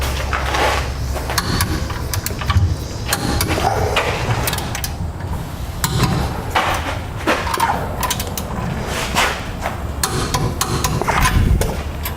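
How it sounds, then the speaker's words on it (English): Gooseneck trailer hitch bolts being torqued on a 2007 Toyota Tundra, heard as steady ratcheting and clicking metal mechanism sounds with scattered sharp knocks throughout, fairly loud and close with no talk. "Now we'll torque these to the amount specified in the instructions"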